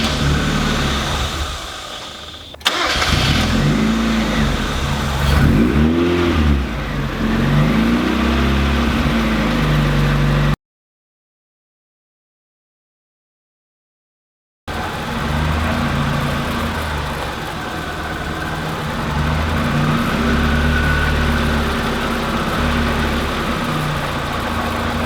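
A supercharged Mazda Miata rally car engine cranks and fires, revs unevenly, then settles into a rough idle; the sound cuts out briefly before the idle resumes, close and loud.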